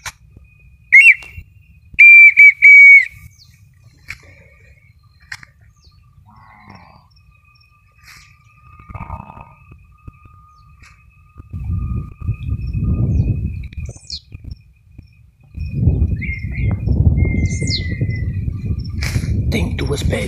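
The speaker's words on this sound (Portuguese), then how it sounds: "Galera, tem uma perdiz piando aqui, ó. Uma perdiz, ó." A partridge on a farm gives short, clear whistled calls, a couple near the start and another later on, over a quiet background that turns into a loud, rumbling noise for the second half.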